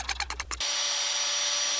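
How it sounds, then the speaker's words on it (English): Power drill boring pilot holes into a wooden chatterbait lure: a few short stuttering bursts of drilling, then a steady high whine running on close and loud, with no talk. "got the pilot holes drilled out"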